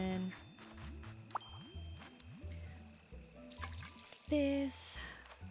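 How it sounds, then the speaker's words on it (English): Water pours and trickles as flowers are tended in the Hello Kitty Island Adventure video game, with soft bubbly game sound effects, repeating chiming tones and a brighter sparkle near the end, all fairly quiet. "So then we'll water this."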